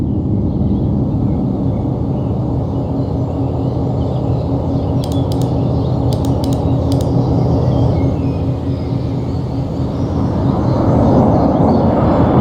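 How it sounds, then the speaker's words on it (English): In the World in Conflict video game, an Su-25 attack jet roars steadily overhead with a dense, loud rumble, and a few sharp clicks cut in partway through. "I'm diverting an Su-25 to deal with the Abrams."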